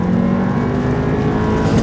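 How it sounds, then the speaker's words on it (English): A turbocharged, stage 2 tuned VW GTI accelerates hard, its engine roaring loud and steady from inside the car for the whole stretch with no talking. "that turbo sounds so good"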